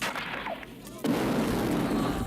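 A sudden loud film explosion from an explosive-tipped arrow erupts partway through, followed by a sustained rumbling roar, after a brief lead-in of noisy action sounds.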